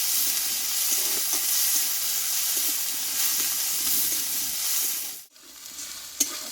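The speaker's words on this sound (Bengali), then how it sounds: "আদা কাঁচা লঙ্কার গোটা জিরে বেটে নিয়েছি দিয়ে দেবো দিয়ে মশলাটা আমি একসঙ্গে ভালোভাবে কষিয়ে নেবো" A paste of ground ginger, green chili and whole cumin sautés in a pan for a potato and pointed gourd curry, giving a dense, even sizzle with stirring, briefly cut off near the end before resuming with a sharp clink.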